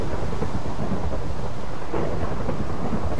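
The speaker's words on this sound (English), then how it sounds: "It's lightning and thundering like crazy up here." Thunder rumbles low and continuously in a stormy outdoor setting, with a steady hiss of rain around it and no voices.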